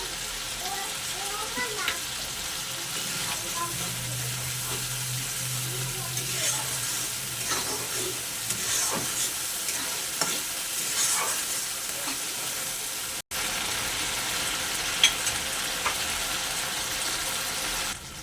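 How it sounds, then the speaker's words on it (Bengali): Spice paste with ground poppy seed, melon seed and cashew sautéing in a pan for egg curry, a steady sizzle with scraping stirring strokes, with a brief cut partway through. "মশলাটা আমার খুব ভালো করে কষানো হয়ে গেছে।"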